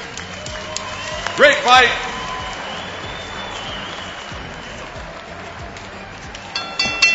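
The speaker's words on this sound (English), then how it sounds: "let's have a round of applause for these fighters" A crowd at a knockout fight night gives the fighters a round of applause, a moderate wash of clapping sitting behind a ring announcer's amplified voice, which dominates.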